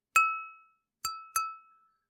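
A drinking glass struck three times to capture material for sound design: a sharp ringing clink with a long bright decay, then two more strikes close together, the last ringing out longest, clear and alone.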